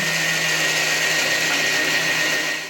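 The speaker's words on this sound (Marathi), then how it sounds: "आई मस्तपैकी आता मिक्सरमध्ये मसाला वाटते" A mixer grinder whirs loudly and steadily, a high motor drone grinding a thick spice paste for egg curry without pause, close by and with no talk.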